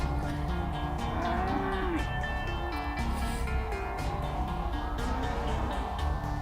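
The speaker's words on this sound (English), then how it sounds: "The cows look confused and scared, poor things." Cattle moo repeatedly while being lifted into the air, the drawn-out lowing calls layered over a steady, dense mechanical background throughout.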